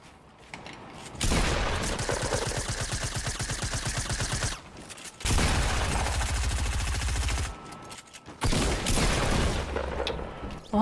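Fortnite gunfire in heavy, sustained bursts, loud and dense, broken by brief pauses between volleys.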